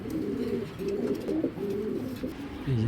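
Pair of silver pigeons, a male and a female, cooing close by in a steady run of soft, low, rolling calls that overlap and continue without a break.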